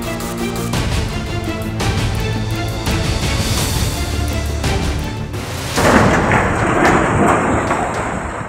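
Heavy rain pours during flooding while thunder rumbles and cracks loudly overhead, a dense, continuous downpour punctuated by deep booming rolls with no voices.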